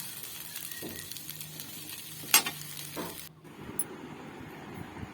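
Kabuli chana chaat being stirred in a pan after lemon is added, with soft scraping and light sizzle, one sharper clack midway, then a quieter stretch of faint kitchen noise.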